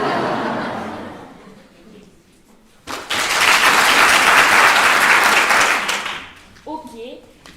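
A school theatre audience at a collège laughs and chuckles, then bursts into loud sustained applause for about three seconds before it fades and a voice speaks.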